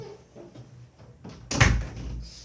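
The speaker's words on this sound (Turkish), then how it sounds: "ben de diğer kapıyı kapatayım" A door swings shut with a single solid thud close by in a room, the bang standing clearly above quiet background noise.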